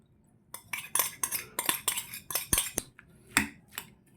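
Bitter melon (ampalaya) salad being tossed with a seasoned vinegar sauce in a bowl, a close run of rhythmic clinks and scrapes of a spoon against the dish in quick bursts, then a few spaced final strokes.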